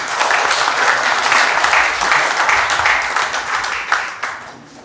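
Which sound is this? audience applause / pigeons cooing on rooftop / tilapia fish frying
audience applause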